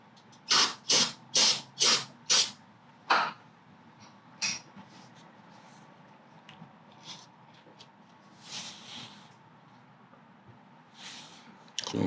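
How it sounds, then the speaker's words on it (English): Several sharp bursts of brake cleaner spray in quick succession during a brake pad change on a 2016 Toyota Corolla, loud and close, followed by scattered quieter hisses and handling noise. "Let's go ahead and spray that out."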